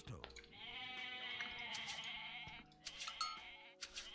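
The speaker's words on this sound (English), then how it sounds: "Oh yeah, I'm getting lucky with my goat finds here." Goats bleat repeatedly within a real-time strategy game, several overlapping calls over game music and ambience while a voice talks throughout.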